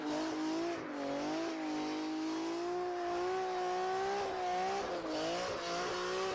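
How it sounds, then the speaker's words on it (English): Straight-piped drift car engine droning and revving loudly under load, with a steady raspy exhaust note wavering in pitch and faint tire squeal, heard at close range with no talk. "And straight pipe sound good."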